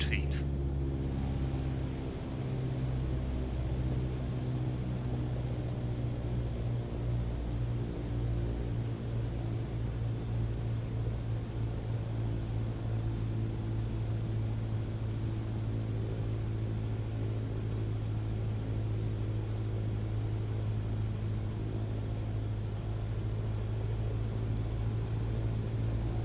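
A small light aircraft in Microsoft Flight Simulator 2020 cruises straight and level at about 100 knots, giving a steady, unbroken droning engine hum with a low tonal rumble that holds constant throughout.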